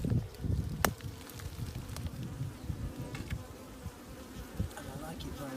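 Honey bees buzz densely and steadily around an open beehive during a spring inspection, a close, continuous drone with a few sharper passes near the microphone.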